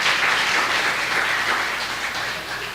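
Church congregation giving applause for the Lord during a Spanish-language sermon, a dense, steady clapping wash that fades slightly toward the end, with no voices over it.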